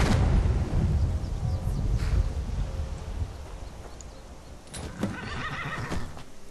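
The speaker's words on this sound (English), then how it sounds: "You're a demon horse, aren't you?" Shadowmere, the demon horse in the Skyrim video game, whinnies and neighs loudly over a steady wind-like ambience, with a few hoof clops and a brighter neigh burst near the end.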